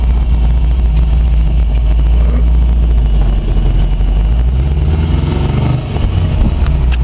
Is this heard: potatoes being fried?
no